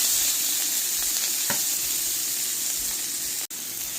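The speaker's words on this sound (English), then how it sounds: "You want to basically cook the onion here until they're lightly golden brown. And it's cooking all in those juices from the sausage." Chopped onion frying in rendered andouille sausage juices, with a steady close sizzle and a soft stir near the middle. The sizzle runs on alone with no talk.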